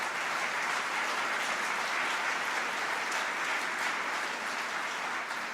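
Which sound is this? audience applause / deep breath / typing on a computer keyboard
audience applause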